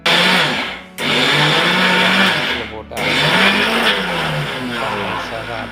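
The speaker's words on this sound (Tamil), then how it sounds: "அதன் பிறகு மிக்சியில் போட்டு அரைக்கவும் மிக்சி ஜாரியில் போட்டாச்சு" A mixer grinder whirs as it grinds soaked dal for paruppu vadai, a loud, steady motor drone that dips briefly twice as the jar is stopped and restarted, running alone without speech.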